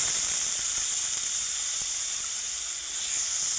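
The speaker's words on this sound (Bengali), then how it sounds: "ওই তেলেই দিয়ে দেবো জিরে, পাঁচফোড়ন, দারচিনি, তেজপাতা, পেঁয়াজ বাটা" Cumin, bay leaf and onion paste, with other whole spices, sizzle in hot oil in a pan while silver carp is cooked in mustard paste: a steady, even hiss of frying that stays constant throughout with no one speaking.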